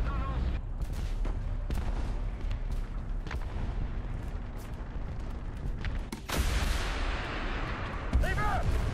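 Explosions and cannon blasts in a tank video game thud over a dense, noisy battle bed, with one heavier burst partway through and scattered sharp impacts around it.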